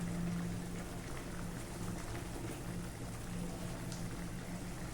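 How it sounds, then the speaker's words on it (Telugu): Fried okra pieces simmering in a tomato gravy, a faint, steady bubbling and hiss of boiling liquid that runs evenly throughout without talk. "ఇప్పుడు దీంట్లో బెండకాయ ముక్కలు ఉడకాలి"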